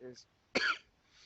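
A single short cough bursts out near the mic, with faint voices briefly before it and quiet afterward.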